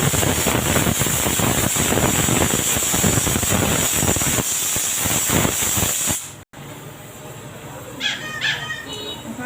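A pressure cooker on a stove releasing steam with a loud, steady hiss for several seconds, then cutting off abruptly, followed by quieter kitchen sounds and a few faint high tones.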